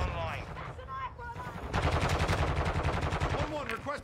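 Rapid shotgun and automatic gunfire from a Warzone 2.0 match, a dense burst of repeated shots filling the latter half, with brief voices over game sound before it.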